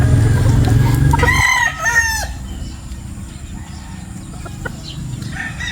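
Breeder chickens make farmyard noise: a close rooster crows loudly, then hens cluck and chatter over a low background hum.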